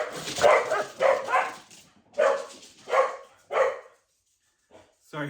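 Dogs bark in several short, loud bursts close by, each followed by a brief pause, with a quiet gap before a final faint bark.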